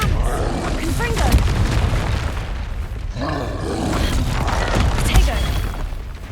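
Confringo blasting-spell explosions from Hogwarts Legacy, dense booming and roaring blasts that crash continuously over a loud game soundscape, with a voice speaking through them.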